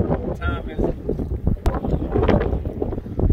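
Wind buffeting a fishing boat out on the water, a steady rough rush that presses close on the microphone and roars throughout, with speech-like sounds mixed in.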